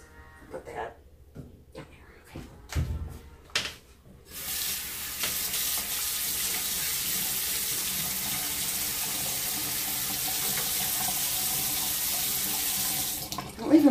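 Tap water gushes steadily into a sink while paint brushes are rinsed after stenciling, a loud continuous splashing rush running from about four seconds to the end, preceded by scattered clatters and thumps.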